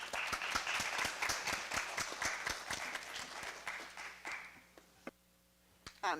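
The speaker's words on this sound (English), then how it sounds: "can we give Dr. Principato just a round of applause, please?" Attendees at a school board of education meeting give a round of applause, a steady patter of many hands clapping at moderate volume that thins out and fades to a few stray claps.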